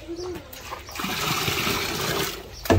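Water pouring into a betta fish container with salt already added, a broad steady splashing rush lasting a couple of seconds, with a sharper knock near the end.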